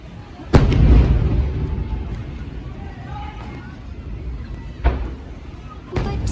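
Diwali firecrackers burst in sharp, loud bangs, one big blast early then two more spaced a few seconds apart, each trailing into crackling rumble with voices in the background.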